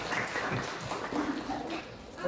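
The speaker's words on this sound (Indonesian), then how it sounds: "Tepuk tangan dulu." Students in a classroom clap their hands together, a dense patter of claps running the full length with voices mixed in.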